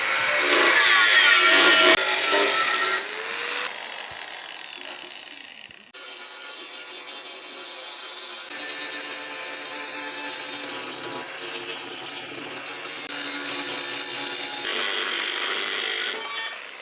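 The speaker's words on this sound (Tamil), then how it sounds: "இப்போ நம்ம மார்க் பண்ணதை கரெக்டா அதே ஷேப்ல கட் பண்ணி தேய்ச்சி எடுத்துக்கலாம்" A steel plate is being cut to a marked shape and filed smooth for a motor clamp on a modified suspension cycle, with close, continuous rasping and sawing strokes that shift in tone between passes and carry on alone without speech.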